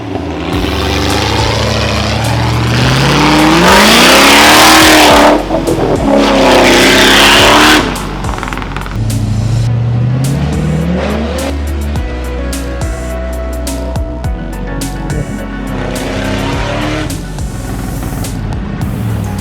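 A V8 Land Rover Discovery revs hard through a deep river crossing, its loud engine surging and falling in rising and dropping pitch, with heavy water churning and splashing around it throughout.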